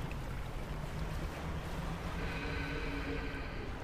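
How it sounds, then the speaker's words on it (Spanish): Steady sloshing water and a droning boat engine from the fishing video game Dredge, a continuous close ambient wash with a faint hum joining partway through. "me gusta cómo suena el agua"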